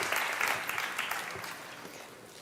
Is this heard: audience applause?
yes